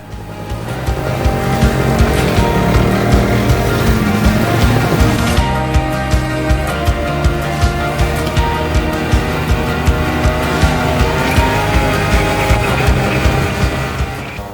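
A motorcycle taxi engine revs hard and continuously while carrying a rider up the steep trail from base camp on Mount Sumbing, Indonesia, loud and close with a sustained roaring drone and shifting pitch.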